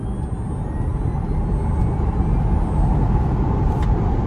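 A 2021 Tesla Model Y Performance accelerates hard under throttle, giving a steady broadband whoosh of road and wind noise that swells slightly as speed builds, heard from inside the cabin with no talking.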